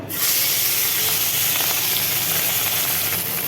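Tengra fish fry in a little oil in a wok, a steady loud sizzling hiss that starts abruptly as the fish hit the oil and holds unbroken throughout.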